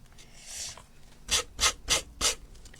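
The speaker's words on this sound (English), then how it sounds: "So I will sand off the bottoms and add some more into there" Sandpaper rubs across the bottoms of a decorated craft box in four quick, even back-and-forth strokes, close and fairly loud, following a softer scrape.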